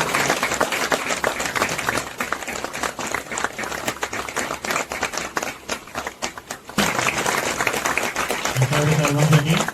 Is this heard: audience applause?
yes